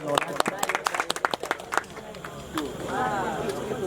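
An audience at the finale of a calisthenics tournament in Nepal claps to welcome a speaker: a burst of loud, scattered claps early on, fading as a voice begins talking over the tail.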